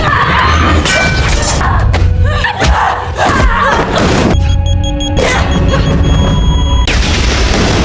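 Explosion and fight impacts in a film scene set inside an airplane cabin: loud booms, thuds and crashing debris with shattering bursts, dense and chaotic throughout, with a brief dropout near the middle.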